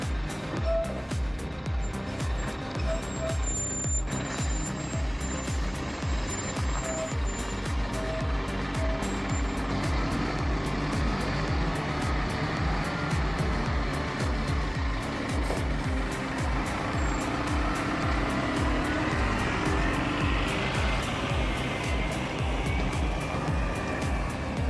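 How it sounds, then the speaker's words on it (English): A Tata 4x4 logging truck loaded with timber grinds along a muddy forest trail, its engine a steady continuous rumble with no break across the whole stretch. "The Tata 4x4 is a powerhouse, conquering muddy forest trails with ease."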